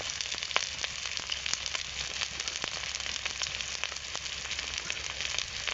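Chilli powder fries in oil with ginger-garlic paste, giving a continuous close sizzle sprinkled with sharp crackles and pops throughout, without speech.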